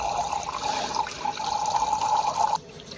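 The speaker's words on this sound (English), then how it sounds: "I'm going to get my water gun and come outside and spray you right now." A toy water gun sprays in a steady hissing stream, fairly close and continuous for a couple of seconds before stopping abruptly.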